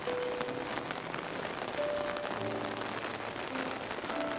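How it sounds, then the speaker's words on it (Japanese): Heavy rain falls steadily on a rose garden in Gifu, a constant soft hiss with a few faint tonal sounds drifting through. "結構雨強いですけど"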